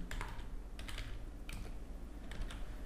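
Keystrokes on a computer keyboard while text is entered into a WordPress popup form, coming in short irregular bursts of clicks at close range over a steady background hum.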